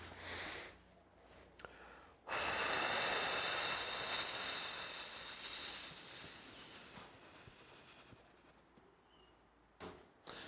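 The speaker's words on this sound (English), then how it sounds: "breathing out until the diaphragm is completely squeezing the air out" A person breathes out slowly and fully to squeeze the air from the lungs. The long, steady, breathy exhale rushes close for several seconds, then fades.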